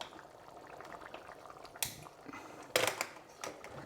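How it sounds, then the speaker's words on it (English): An Austrian beef goulash boils in a pot on a stove, giving a steady bubbling simmer with scattered pops and a couple of louder sputters and clatters. "the goulash is boiling really well now"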